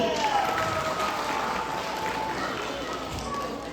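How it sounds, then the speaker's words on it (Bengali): An audience claps steadily for a children's group performance at a Bengali New Year (Boishakh) celebration, a dense, even wash of applause that lasts throughout and fades only slightly toward the end. "আমাদের ছোট্ট বন্ধুদের জন্য আরেকবার করতালি দিতে পারে কি"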